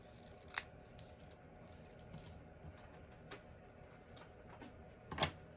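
Scissors make two sharp snips through paper during a stamping craft project, one early and one near the end, with quiet room noise between.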